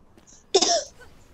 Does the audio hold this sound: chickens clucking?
no